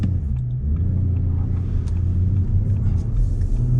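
A 2025 Audi S5 accelerating, its engine a deep, steady low rumble from inside the cabin that holds constant and fairly loud for a few seconds with no talk over it.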